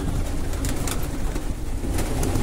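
Soft, continuous cooing from pigeons in a loft, low and murmuring under a steady rumble, with occasional faint clicks and rustles.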